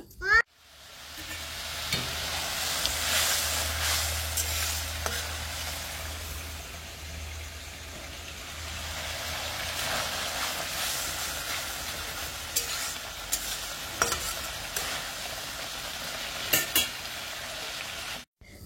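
A spice paste sizzles and bubbles steadily in a pan with a little water for a long stretch, with occasional scraping and clinks of a utensil against it.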